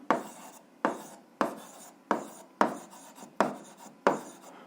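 Pen or pencil writing out a math answer on paper, heard as seven evenly spaced scratchy strokes, each a sharp onset fading into a brief rasp, close and fairly quiet with no voices.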